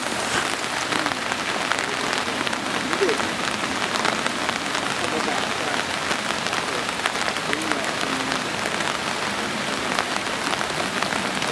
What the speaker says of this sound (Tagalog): Ulan lang talaga.